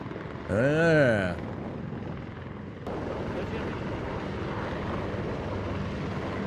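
Cobra attack helicopters fly past at the Miramar air show, a steady broad roar of rotor and engine noise that carries through the whole stretch, with a brief rising and falling whistling tone near the start and people talking at times.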